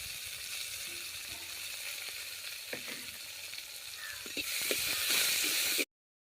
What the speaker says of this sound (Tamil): வெங்காயம் நல்லா வதக்கிடலாம்